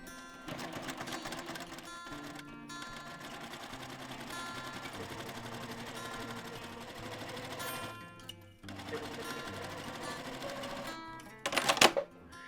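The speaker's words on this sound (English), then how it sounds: "we're just going to sew along this edge" A sewing machine stitches a quarter-inch seam along a quilt binding edge, running in a steady close mechanical whir with brief pauses and a sharper clatter near the end.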